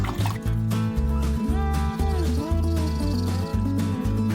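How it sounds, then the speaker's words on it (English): Water is added into a mixie grinder jar while making malai kofta curry. The pour gurgles and drips as the liquid fills the jar, with a steady bubbling rhythm, close and fairly loud. "I'll add some more water in the mixie."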